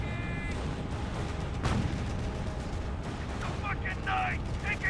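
Battlefield gunfire and distant explosions in the Company of Heroes 1 strategy game, scattered rifle shots and rumbling blasts under steady background noise, with voices talking throughout.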